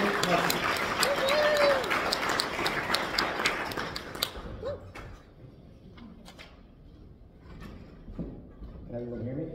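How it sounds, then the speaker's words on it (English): An audience at a chiropractic conference applauds fairly loudly for about four seconds, then the clapping stops abruptly and leaves quiet room noise with a few small knocks and a brief voice. "Let's give a round of warm of applause"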